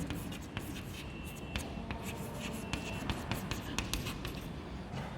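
Chalk or marker tapping and scratching on a board during a chemistry lecture, quick irregular strokes and clicks close by over a noisy room hum.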